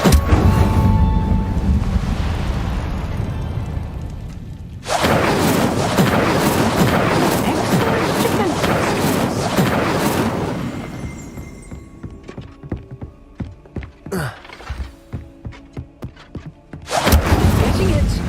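Incendio fire spell cast in the video game Hogwarts Legacy: loud roaring bursts of flame in long sustained blasts, then a run of quicker crackling pops before a final roaring burst.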